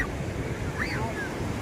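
Ocean waves at Gokarna beach on a rainy day, a steady rushing wash of surf mixed with wind buffeting the microphone. A faint high whistle-like tone briefly rises and falls partway through.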